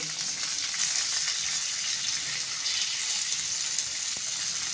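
Garlic and turmeric sizzle steadily in a hot pan, a dense, even frying hiss that holds close and loud throughout, with no talk over it.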